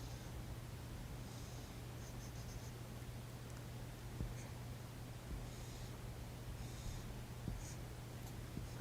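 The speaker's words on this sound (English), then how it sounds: "You can either write them like this, or you can write them like this." Someone writes by hand on paper in a quiet room, producing soft, faint scratching strokes in scattered short bursts over a steady low hum. No one speaks.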